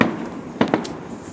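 Fourth of July fireworks go off outdoors with two sharp, fairly close bangs in quick succession, each leaving a brief hissing crackle, with no voices.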